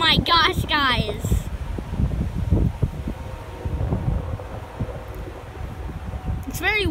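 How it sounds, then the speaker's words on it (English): Steady wind rumbles and buffets the microphone throughout, with scattered bursts of chattering voices near the start and end. "It's very windy out."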